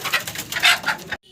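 Soft, close cooing from a pair of Lahori pigeons, a few breathy rising and falling calls in quick succession before stopping abruptly.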